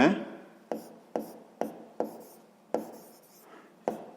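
Handwriting with a pen on paper while noting edges for a sixth-grade geometry exercise: about eight crisp, scratchy strokes in quick succession, close and clear, with no talk over them.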